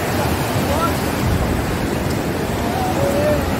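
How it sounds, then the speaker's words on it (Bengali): Dam water overflows and rushes fast, a loud, continuous roar of churning water close by, steady throughout with some wind buffeting. "ড্যামের জল দেখুন কত স্পিডে"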